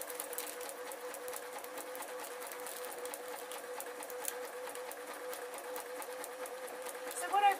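A sewing machine runs steadily while stitching fabric for a cat project, a continuous close mechanical whir with a fast even rhythm that never pauses.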